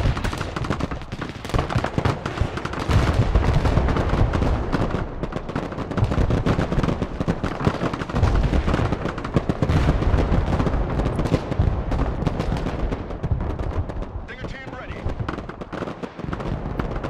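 In the Broken Arrow war strategy game, grenade launchers and supply-vehicle machine guns fire together in a dense, continuous barrage of booms and rattling bursts. A voice speaks over the din.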